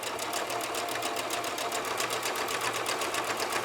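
A sewing machine runs steadily while stitching a fabric face mask, a fast even mechanical whir and tapping needle rhythm, close and continuous with no pauses.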